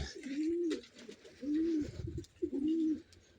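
Racing pigeons coo nearby in three low, rolling phrases with short pauses between, over a quiet background.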